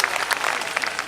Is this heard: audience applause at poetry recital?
yes